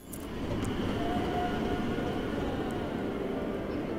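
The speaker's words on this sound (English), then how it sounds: "When is that metro coming?" Metro train in the horror game Underground Blossom: a steady, loud rumbling roar of a passing underground train that holds on throughout without speech.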